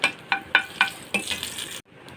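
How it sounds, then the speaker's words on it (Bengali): Six dried red chillies fry in oil in a frying pan, a close sizzling hiss punctuated by rhythmic spatters and spoon scrapes, then a cut to quiet near the end. "ফ্রাই প্যানে তেল দিয়েছি, 6টা শুকনো মরিচ দিয়েছি,"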